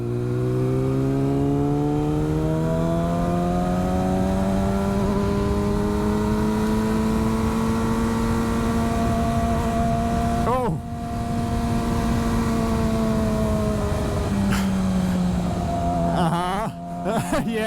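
A Yamaha R6 motorcycle engine pulls steadily and loud throughout a ride, its rising harmonic whine holding close and continuous, with a brief dip around a shift midway, while a rider speaks over it.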